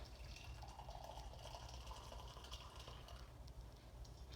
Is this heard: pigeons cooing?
no